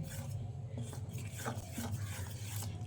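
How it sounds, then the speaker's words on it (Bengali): A spoon scrapes and swirls through a thick semolina and palm fruit cake batter with ghee in a bowl, giving a continuous close wet rubbing and stirring sound. "ঘিটা দিয়ে আবারও ভালো করে নেড়ে চেড়ে মিশিয়ে নিচ্ছি"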